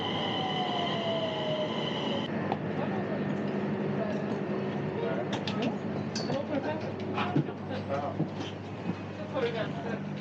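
Train at Gothenburg Central Station, a steady loud rumble with a sustained tone that drops at one point, then rattling and creaking carriage noises beneath a constant hum; voices are heard in the background.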